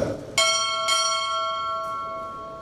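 A ship's bell at a U.S. Navy chief petty officer pinning ceremony rings out two bright metallic strikes about half a second apart, each leaving a long shimmering tail that fades slowly, with a faint extra touch near the end.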